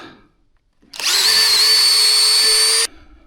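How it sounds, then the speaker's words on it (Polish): A power drill bores into a wall while a vestibule extension is built onto a house, running one steady, loud, high whine for about two seconds, close to the listener, with no talk over it. "Nawiercimy sobie tutaj."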